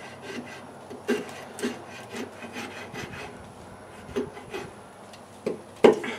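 A CRKT Woods Chogan hatchet shaves wood with short scraping, rasping strokes at an irregular rhythm, close and moderately quiet, with a sharper hit near the end.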